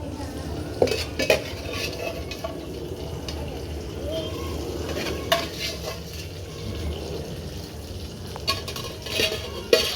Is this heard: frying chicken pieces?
yes